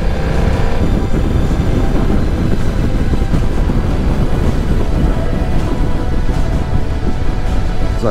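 Rain and wind rushing past a motorcycle rider climbing the Umbrail Pass toward the Stelvio in Switzerland; a loud, constant broadband roar of wind buffeting and engine drone runs unbroken throughout, with no talking.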